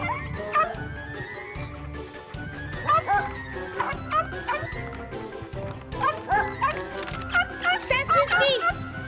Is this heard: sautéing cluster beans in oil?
no